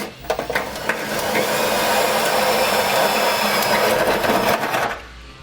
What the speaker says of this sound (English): Now we're going to be using a hole saw to achieve that 1 1/4 hole